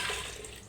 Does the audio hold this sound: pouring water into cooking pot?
yes